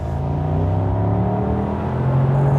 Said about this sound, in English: let's engage the sports exhaust system. Let's knock it down to 3rd and let's floor it